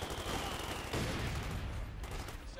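Machine gun bursts and rifle fire rattle through a Company of Heroes 2 battle, rapid, continuous and dense, heard from a middle distance.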